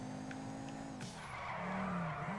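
Tires squeal continuously as an Albany Alpha sports car drifts around a corner in GTA 5, the screech wavering in pitch over a steady engine drone, loud and close.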